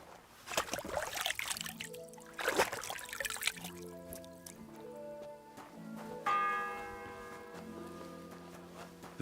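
A church bell rings in the medieval role-playing game Kingdom Come: Deliverance 2, its strokes mixed with melodic background music before a clearer, sustained ring with a long decay.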